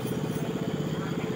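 A new 12 HP low-speed diesel engine for a small boat, running with a fast, even chugging throb close by, loud and steady, with a voice speaking faintly over it.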